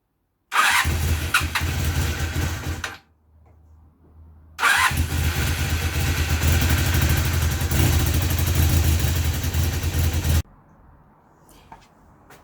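A Honda CB250N motorcycle starting from stone cold: a loud burst of engine noise cuts out after a couple of seconds, then after a quiet gap it fires again and runs steadily for about six seconds before shutting off.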